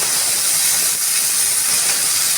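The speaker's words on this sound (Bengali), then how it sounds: "এবার পটলটা ভেজে নেবো আগে" Pointed gourd fries in a little oil in a pan, a loud continuous close sizzle with a steady hiss and no voices.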